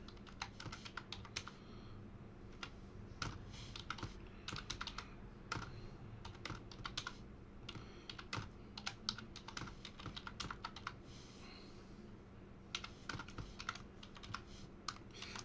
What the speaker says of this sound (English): when we're typing these in